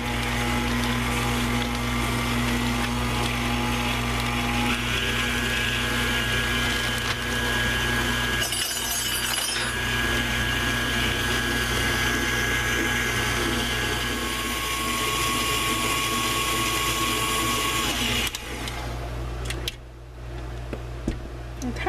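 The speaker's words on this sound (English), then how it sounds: "So let's get all this blended up together." Blender mixing sweet potato pie filling with butter and salt, a loud continuous motor whine and churning that holds steady, shifting pitch once partway through, then cutting off near the end.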